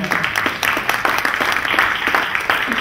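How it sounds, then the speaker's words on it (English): Loud audience applause at a fitness tech summit presentation, dense overlapping clapping with a few sharper individual claps, continuous across the whole stretch. "You can applaud."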